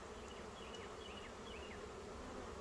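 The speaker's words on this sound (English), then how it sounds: "this was definitely a massive primary swarm" A massive primary swarm of honey bees drones in a dense, steady buzz that fills the air evenly, with single bees passing closer now and then.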